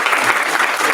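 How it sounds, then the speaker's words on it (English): Audience applause for a speaker at an intern physics symposium: a brief, loud, continuous burst of many hands clapping, with no voices over it. "Round of applause for Steve."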